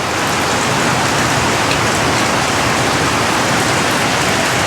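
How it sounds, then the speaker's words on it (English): Heavy, steady morning rain pouring down in the Philippines, a loud continuous hiss of drops on surfaces with no pauses and no voices. "It's raining."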